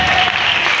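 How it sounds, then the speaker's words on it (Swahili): A congregation claps at an Easter church service, producing dense, continuous applause that fills the room, loud and unbroken for the whole moment. "Pigia Yesu makofi mtu anayenielewa hapa"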